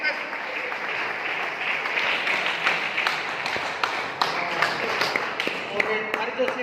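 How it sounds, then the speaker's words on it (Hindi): Seminar audience applauds to welcome a guest, sustained clapping with some crisp individual claps, while voices talk and call out over it. "आपकी जोरदार तालियों के बीच में"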